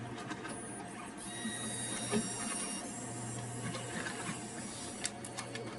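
A laboratory analyzer running while quality control sample clips are loaded, giving a steady mechanical hum with light ticks and clicks at moderate level throughout, no talking.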